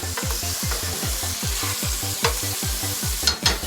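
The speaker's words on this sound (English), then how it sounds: "Let that saute up in there just a bit." Mushrooms and chili sauteing in butter, a continuous sizzle close by, while a steady, rapid thumping pulse beats beneath it and a couple of sharper clinks sound near the end.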